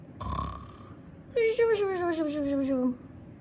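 A voice imitates a snore: a short breathy rasp, then a long drawn-out, falling nasal drone lasting over a second, close and fairly loud.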